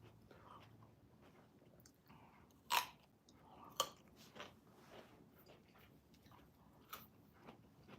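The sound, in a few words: crunchy food being chewed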